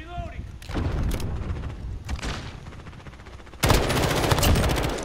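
Gunfire in Call of Duty Modern Warfare, rapid automatic bursts in several rattling volleys, the last one louder and sustained, with players talking over the shooting.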